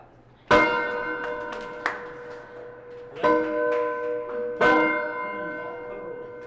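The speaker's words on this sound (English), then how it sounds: "It was placed here in the Capitol by an act of the state legislature and has been rung on Statehood Day" The Montana Statehood Centennial Bell rings at the state Capitol on Statehood Day, three loud, close strikes spaced a second or two apart, each leaving a long ringing hum that decays between strokes.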